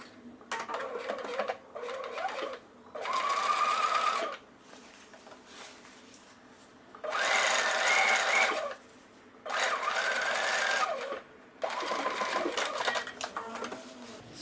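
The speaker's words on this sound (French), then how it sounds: "Je rabats le rentré de 1 cm sur la couture et je surpique." Domestic sewing machine topstitching a folded 1 cm seam allowance on a long-sleeved dress, running in several steady bursts of a few seconds each with short quiet pauses between, close and clear with no talking.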